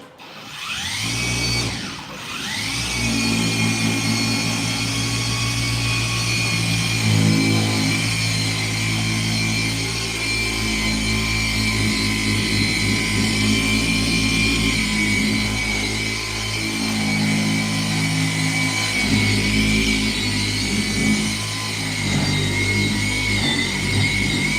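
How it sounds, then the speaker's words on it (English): Electric car polishing machine running continuously on a paint scratch, droning steadily with a shifting, wavering motor pitch as pressure is applied, loud and close with no talking. "if you hear the machine revving up and down, is because I'm putting pressure to mow that down"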